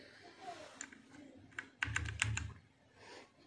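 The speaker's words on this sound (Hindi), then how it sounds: "और ये बहुत अच्छा कीबोर्ड है।" Clicky typing on a Portronics Hydra 10 gaming keyboard, a burst of quick keystrokes that thickens into rapid clustered presses midway before easing off, close and fairly quiet.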